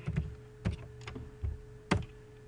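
Keys clatter on a computer keyboard in a handful of separate, soft clicks spaced irregularly over a quiet room hum, with no talking.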